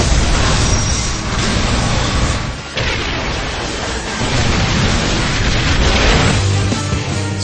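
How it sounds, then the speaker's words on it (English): Booming video-game explosions from the racing game Split Second, a dense, loud, continuous wall of crashing blasts and destruction with a brief dip midway before the roar surges again. "Split Second may have the most impressive destruction and explosions in a racing game."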